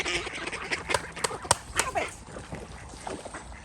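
A small group of ducks led by a woman quacks and splashes in water nearby, irregular short calls over a busy outdoor background with light sloshing.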